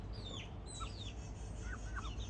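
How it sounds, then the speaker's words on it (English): Chickens on a farm clucking and calling several times, quiet and somewhat distant, over a low steady background rumble. "Look at the chickens."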